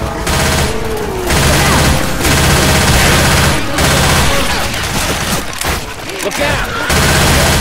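Rapid gunfire bursts from shooting at zombies in the co-op game Left 4 Dead 2, loud and dense, with music in the background and players talking over the shots.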